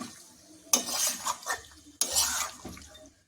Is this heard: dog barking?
no